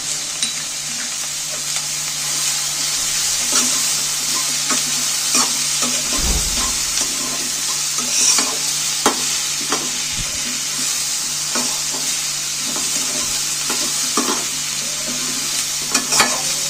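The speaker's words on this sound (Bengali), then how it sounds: "হালকা করে একটু ভেজে নেব" Garlic and ginger paste frying in a pan while being cooked for chicken momo filling: a continuous close sizzle broken by repeated spatula scrapes and stirring clicks, with a brief low thump midway and no speech.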